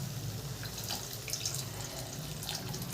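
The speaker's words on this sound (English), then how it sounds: "As the gravy is thick, I'm adding in 1 glass of water." Water from a glass is poured into thick curry gravy as a steady splashing, trickling stream with scattered bright drips, moderately close and without talk.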